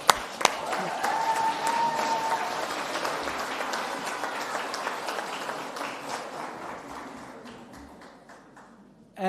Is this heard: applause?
yes